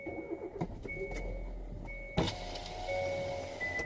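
An electric car window motor whirs steadily for a few seconds, with a brief thunk partway through and a quiet engine idling underneath.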